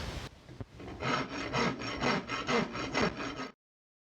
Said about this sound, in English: to ease this contour in here a little bit more without gouging it up with the edges of the rasp, I'll use this rounded microplane.